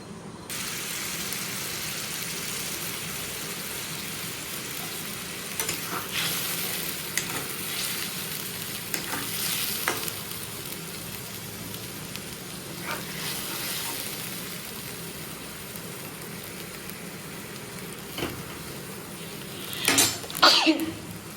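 A tomato, ginger, cumin and dried chilli spice paste fries in hot oil with bay leaves, giving a steady close sizzle with scattered sharper crackles and a few clattering stirs near the end.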